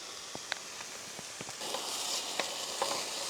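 Pork fat renders in a hot pan for spaghetti carbonara inside a campervan, giving a quiet, steady sizzle broken by scattered small pops and crackles, with no talking.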